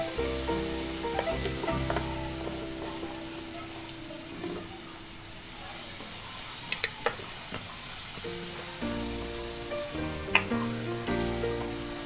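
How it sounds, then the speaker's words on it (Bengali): Spice masala with turmeric for paneer bhurji sizzles in a pan, a steady hiss of frying under scattered stirring clinks and a faint humming tone, with no talking. "ভালো করে কষে নেব মশলাটা।"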